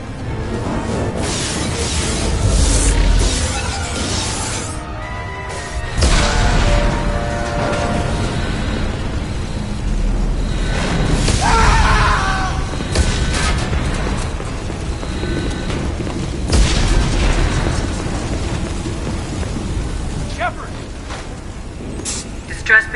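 Explosions tear through an attacked starship in Mass Effect 2, with repeated booms, crashes and rumbling blasts under an ongoing dense mix of alarms and shouting voices over about twenty seconds.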